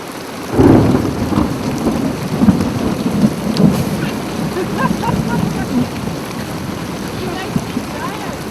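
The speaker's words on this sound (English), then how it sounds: "the heavy rain has returned" Heavy rain pours steadily in the small hours during an overnight Highland ultramarathon, with dull thunder rumbling low beneath the downpour, loud and continuous throughout.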